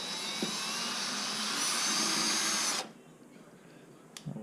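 A power tool whirs loudly and steadily for nearly three seconds while unscrewing parts during a heat exchanger installation on a Mustang Shelby GT500 S197, then stops abruptly, leaving quiet room tone and a brief clunk.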